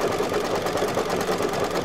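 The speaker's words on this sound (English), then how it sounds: "And now it's going to do the overall satin stitching around the monogram." An embroidery machine sews satin stitching around a monogram on a towel topper, giving a steady, fast, close mechanical whir that runs evenly throughout with no talking.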